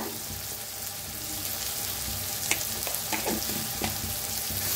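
Onion and tomato frying in a pan with turmeric, a continuous close sizzle with a few brief clinks and scrapes of stirring.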